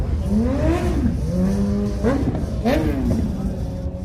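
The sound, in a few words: motorcycles on busy street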